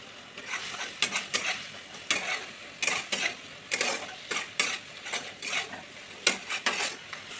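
Ginger-chili paste frying in a pan with cumin, coriander and Kashmiri chili powder, stirred briskly with a utensil that scrapes and clanks against the metal in quick repeated bursts over a constant sizzle.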